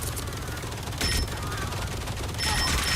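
Rapid gunfire from Marvel Rivals Zombies, bursts of sustained shooting at about one and two and a half seconds over a busy game mix, with a faint voice underneath.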